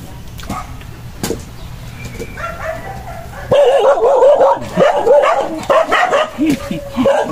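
A dog barks repeatedly up close in short, loud bursts with some whimpering yips, after a quieter stretch of background noise.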